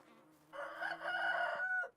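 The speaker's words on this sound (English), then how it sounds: "Check out my rooster." Rooster crowing in the medieval farming game Medieval Dynasty, a single close, fairly loud cock-a-doodle-doo lasting about a second and a half over a faint low background hum.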